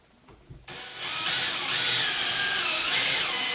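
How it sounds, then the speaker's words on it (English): A power drill fitted with a small bit boring into a door, starting abruptly and then running as a steady, close, high whirring grind for a few seconds without any talk. "Take your drill with a small drill bit"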